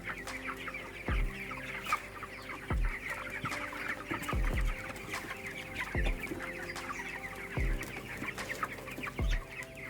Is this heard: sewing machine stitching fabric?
no